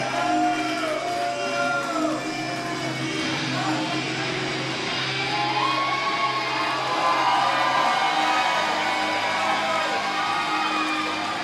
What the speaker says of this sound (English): But listen to that crowd